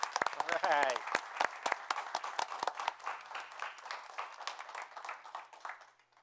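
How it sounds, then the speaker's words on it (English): A small group at a town board meeting gives scattered, uneven claps over the first few seconds, mixed with voices talking, before the clapping thins out and fades near the end. "if Aaron wants to stand up right now and take a round of applause"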